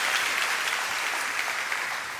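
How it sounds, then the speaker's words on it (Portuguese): Church congregation applauding, a dense steady wash of many hands clapping at a loud, even level throughout, easing slightly at the very end. "Pode dar uma salva de palmas"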